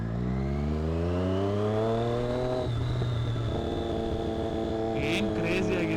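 A Triumph Daytona 675 fitted with an SC Project slip-on exhaust revs loudly and steadily, its pitch holding high before dipping and climbing again, with a few sharp bursts near the end.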